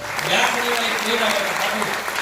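A short burst of audience applause from a crowd gathered at a religious gathering at Manas Hanuman Dham, dense clapping with a voice speaking over it.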